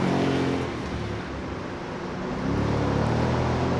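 A Ford street car running a lap at the Carlisle Ford Nationals track race, its engine roaring loud and close, easing off briefly mid-run before surging back under heavy throttle.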